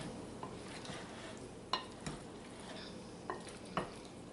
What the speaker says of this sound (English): now I'm just tossing this all together